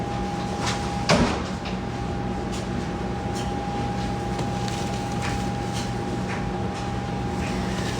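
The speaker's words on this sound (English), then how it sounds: "will you close the laundry room door?" A laundry room door shuts with one short knock early on, then a steady low indoor hum carries on alone with no talk.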